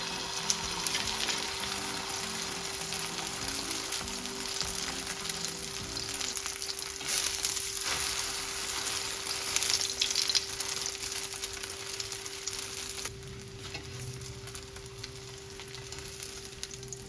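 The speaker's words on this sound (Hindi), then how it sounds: "अब हम अंडे को फ्राई करेंगे।" Eggs fry in a pan of oil for a shami burger, giving a steady crackling sizzle throughout with small spits and bubbling and no voices.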